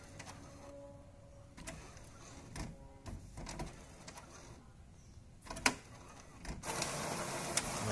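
An HP 7740 inkjet printer prints a quality report, giving quiet mechanical whirring and scattered clicks as the paper and print carriage move, with a louder burst of feed noise near the end.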